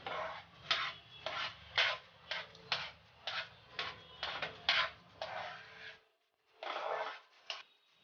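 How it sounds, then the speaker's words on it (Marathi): A spoon stirs grated coconut into vermicelli kheer in a pan, making a run of rhythmic scraping strokes, about a dozen close rasps in a steady pattern with a brief pause near the end. "आता हे खोबरं आपण व्यवस्थित खिरीमध्ये मिक्स करून घेऊया"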